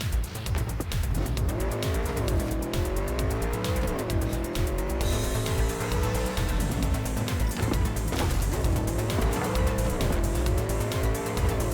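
A car driven in the video game Cyberpunk 2077, its engine droning steadily while tires squeal in repeated rising and falling bursts through turns, loud and close with no talking.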